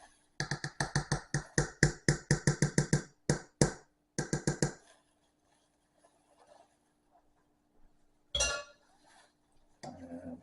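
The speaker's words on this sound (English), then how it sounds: "Get my hand whisk." Hand whisk beating whipping cream in a bowl, a fast run of rhythmic clinking strokes close up, pausing, resuming briefly, then stopping with near silence and a couple of later scrapes.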